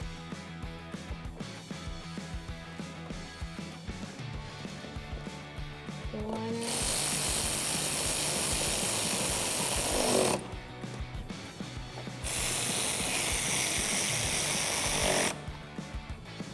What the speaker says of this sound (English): we can install our 8mm screws up front using an 8mm socket to tighten that up